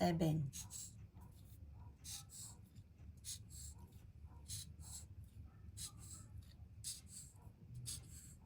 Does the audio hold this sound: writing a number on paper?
yes